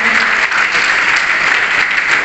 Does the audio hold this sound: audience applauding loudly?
yes